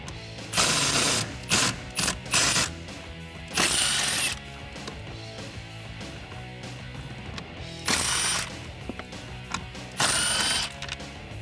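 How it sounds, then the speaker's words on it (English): Hand ratchet backing out four 7mm bolts beneath the glove box of a 2010-2014 Ford Mustang coupe, heard as several bursts of quick, close clicking separated by pauses. "remove the 4 bolts underneath the glove box"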